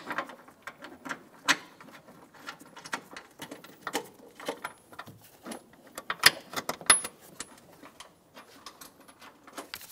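Two bolts are fitted and tightened by hand on the side of the power steering filter of a 2007-2017 Ford Expedition, giving quiet, irregular metallic clicks, ratchet ticks and small rattles scattered over several seconds.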